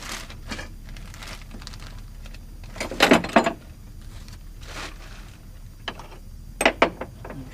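A bolt is started by hand while working on a machine, giving close metallic clicks, ratcheting turns and scattered clanks separated by quiet gaps.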